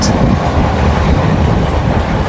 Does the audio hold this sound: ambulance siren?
no